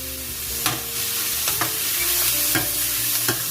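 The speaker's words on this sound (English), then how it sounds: "I'm just going to saute this for just a couple of minutes." Ground brisket and sweet potatoes sautéing in a pan give a steady close sizzle, broken by several scraping stirs of a spatula, with no voices.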